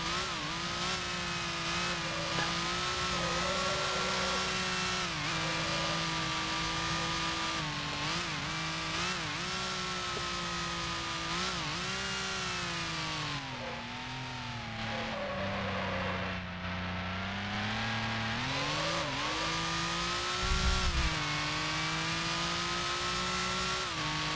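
A Maserati 250F, a 1955 Grand Prix race car, in Grand Prix Legends at Reims, its engine droning continuously with rising and falling pitch through gear changes and corners, steady and close throughout.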